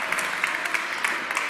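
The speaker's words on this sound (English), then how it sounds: "Ladies and gentlemen, a huge applause," An audience at a chess festival stage event applauds chess champion Judit Polgar, a short, steady patter of many hands clapping at close range.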